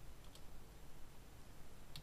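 Faint typing on a computer keyboard, with a few sparse, quiet key clicks over a low background hum and no speech.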